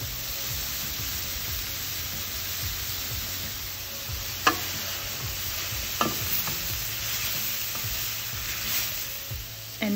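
Diced sweet potato sizzles in a pan for a rainbow curry, a constant soft hiss of frying with a few isolated clicks of a utensil, no voices.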